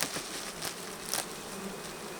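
Dense, steady buzzing of many honeybees close by at an open beehive, a continuous droning swarm with occasional louder passes near the microphone.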